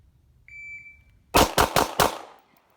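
At a shooting practice, a short electronic beep is followed by four rapid, close, loud gunshots fired in quick succession, with a brief fading echo after.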